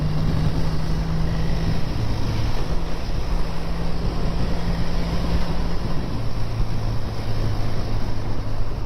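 A 1962 BSA A10 650 motorcycle engine runs smoothly and steadily while riding, its low drone partly buried under constant heavy wind rush across the microphone.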